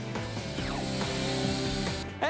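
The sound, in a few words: chainsaw cutting the roof off a car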